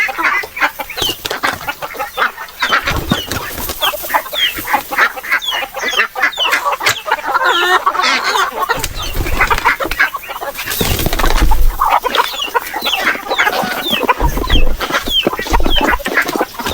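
Native chickens peck and cluck through freshly cut grass outdoors, with busy overlapping clucks and bird calls close by and a brief flutter of wings, and no talking.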